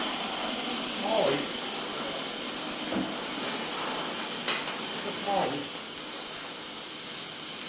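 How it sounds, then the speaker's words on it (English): A steady hiss of air escaping from a leaky valve on a 2004 Harley-Davidson FLHT Twin Cam touring motorcycle during a top-end rebuild, constant and fairly loud under a few faint knocks and creaks. "I hear air leakage."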